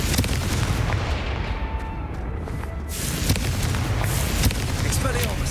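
The Confringo blast spell in Hogwarts Legacy sets off heavy booming explosions that crackle over a dense, continuous wash of game combat noise.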